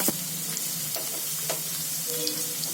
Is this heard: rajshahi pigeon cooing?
no